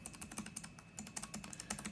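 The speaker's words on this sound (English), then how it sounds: "Have the mechanical keyboard, the Cherry mechanical low profile keyboard" Continuous fast typing on an Alienware X17 laptop's Cherry mechanical low-profile keys, dense even clicking close to the listener, heard alone without speech.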